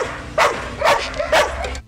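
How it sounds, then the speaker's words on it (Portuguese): A search and rescue dog working at a disaster site in Petrópolis, Brazil, gives three clear barks, evenly spaced about half a second apart, close and fairly loud. "A cada latido, o sinal de que uma vítima foi encontrada."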